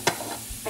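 Cumin and small mustard seeds sizzle in hot oil, a brief crackling hiss with a sharp pop near the start and a soft stir sound, no voices.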